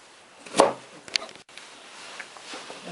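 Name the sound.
chopping radish for Korean kimchi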